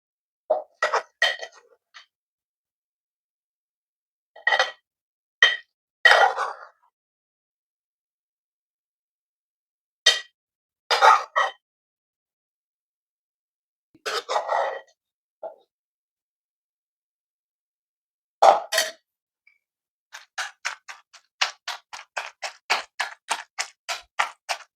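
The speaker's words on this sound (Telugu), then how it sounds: "పచ్చిమిర్చి ఈ విధంగా నూరుకొని" Green chillies ground with a pestle for an Andhra tomato roti pachadi, separate clusters of hard grinding scrapes and knocks with silent gaps between, ending in a fast run of rhythmic pounding strikes, close and dry.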